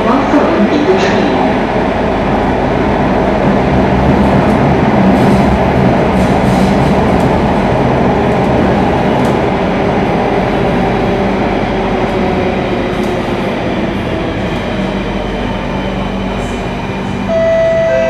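Singapore MRT metro train running between Bishan and Bras Basah stations, a steady loud rumble of wheels and carriage noise throughout, with a brief announcement voice over it.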